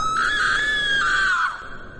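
A woman lets out a loud, sustained, high scream that holds steady and then breaks off and fades, a horror-story sound effect with no talk over it.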